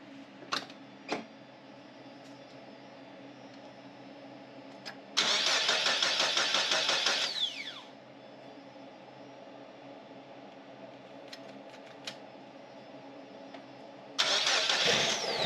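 A rebuilt engine in a 1981 Mazda 626 is cranked twice, catches and runs briefly, then is cranked again near the end, each time loud and close. Faint clicks and light handling sounds come between the attempts.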